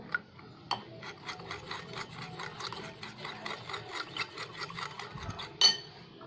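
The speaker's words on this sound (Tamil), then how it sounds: "இப்போ நல்லா மிக்ஸ் பண்ணிக்கோங்க." A spoon stirs honey into a drink with a rapid, even series of scraping strokes against the glass, close and moderately loud, ending with one sharper clink and no speech.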